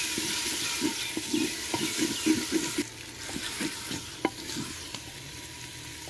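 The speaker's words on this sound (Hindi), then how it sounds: "मसाला भी हमारा भून चुका।" Spices for a village-style potato and fenugreek curry sizzle in a pan while a spoon scrapes and stirs in repeated strokes, close and moderately loud with no talking.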